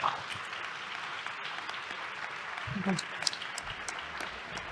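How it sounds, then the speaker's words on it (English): Applause from the audience at a roundtable event, a steady, fairly quiet patter of clapping from a seated crowd with a few brief voices mixed in. "A round of applause for Emary Aronson, ladies and gentlemen."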